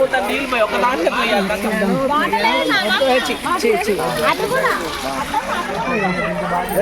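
Water splashes and gushes steadily from both sides at Chilakala Gutta, a hillside shrine site, with children's voices and crowd chatter mixing in throughout.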